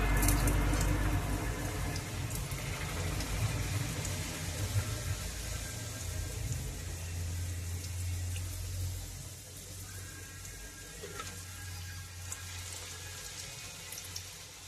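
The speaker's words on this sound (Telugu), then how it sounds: "ఆయిల్ బాగా వేడెక్కింది. పూరీ వేసుకున్నాం" Puri frying in hot oil gives a soft, steady bubbling hiss close by, fairly quiet and continuous, with a low hum underneath and no talking.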